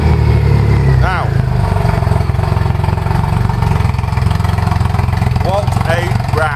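Triumph Rocket 3 Classic motorcycle with loud pipes, its big engine rumbling deep and steady close by, with a couple of brief revs as someone talks over it.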